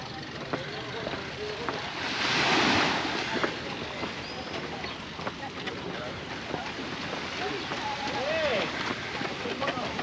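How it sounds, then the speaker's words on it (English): Gentle sea waves lap at the shore at Ciudad Jardin, Palma de Mallorca, a soft continuous wash with one fuller swell early on, mixed with light wind. "Hopefully gentle ripples on the sea today."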